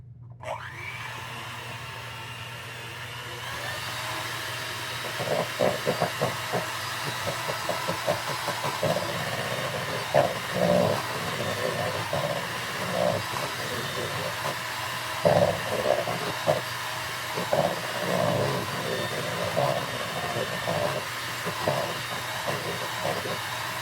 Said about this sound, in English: then go back in with your mixer